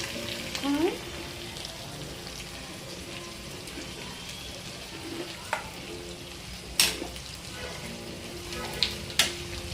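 Broad beans fry in a pan with a steady low sizzle, punctuated by a few sharp clicks and scrapes from a utensil toward the end.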